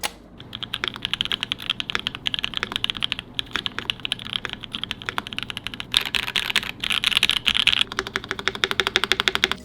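Rapid, even keystrokes clatter close up on a mechanical keyboard built with an aluminum plate in a top-mount configuration, a continuous crisp typing rhythm with a slightly denser burst late on.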